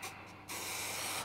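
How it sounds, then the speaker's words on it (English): Spray mount adhesive misted from an aerosol can onto the back of a paper pattern for a guitar build, heard as a short hiss, then a longer steady spray burst lasting nearly a second, close and quiet with no talking. "get a little bit of spray mount"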